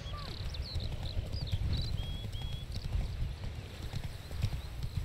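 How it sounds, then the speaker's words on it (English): Galloping horse hooves in The Witcher 3 video game, a fast continuous clip-clop rhythm close up, with faint whistling game sounds over the top and no speech. "Gotta get on my roach to even catch up with Vesemir"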